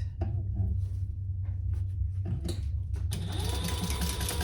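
A sewing machine stitches a crossbody bag pocket closed, running in short bursts of rapid, even clatter with brief pauses, then speeding up into a longer continuous run at close range.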